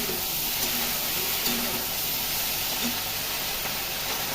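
Green beans fry in oil with salt and turmeric, making an even, continuous hissing sizzle at close range, fairly loud and without pauses.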